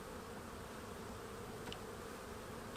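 Honey bees buzz steadily inside a queen-rearing starter-finisher hive, a dense, continuous hum close by with no voices.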